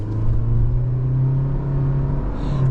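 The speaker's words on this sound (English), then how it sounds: "it's a naturally aspirated 4-cylinder engine, but it doesn't sound particularly good when it comes on" A naturally aspirated four-cylinder engine in a 2026 Toyota Prius AWD runs with a steady droning hum and low rumble heard close up, holding a fairly constant pitch with no voices.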